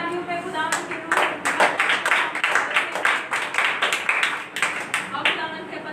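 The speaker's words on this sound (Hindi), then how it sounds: "जोरदार तालियों में" A church congregation at a Friday Pentecostal prayer meeting in Pakistan claps, producing a dense run of sharp hand claps in a fairly steady rhythm, moderately loud, while a voice speaks briefly at the start.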